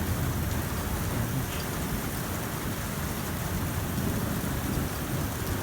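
Violent supercell thunderstorm over Clermont-Ferrand: dense, steady downpour hissing on surfaces with deep rolling thunder rumbling underneath throughout, no voices.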